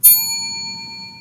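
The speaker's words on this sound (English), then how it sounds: "Hotel bell, I kind of like that one." A single bright hotel-bell ding from a classroom sound-meter alert strikes loudly once, then rings out with a clear sustained tone that slowly fades, alone and without talk.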